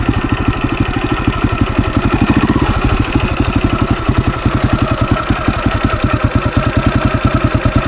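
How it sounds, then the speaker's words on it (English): A hot dirt bike engine, running slightly rich, settles back to idle. It gives a steady, close, rapid thumping pulse that stays even and alone throughout. "see how it does coming back down to an idle after getting it really hot."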